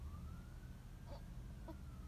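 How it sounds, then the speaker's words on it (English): A faint police siren wails in the distance at a gas station with a gas leak, a single rising-and-falling tone over heavy low rumble of traffic or engine noise. "And I hear sirens."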